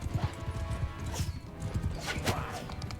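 Horses gallop in the Mount & Blade 2 Bannerlord video game, a busy run of hoofbeats with occasional whinnies and battle noise in the background.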